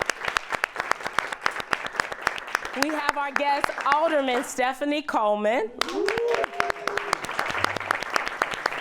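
Studio audience at a live talk show applauds, dense sharp claps continuing throughout at close range while a host speaks over them to introduce a guest alderman.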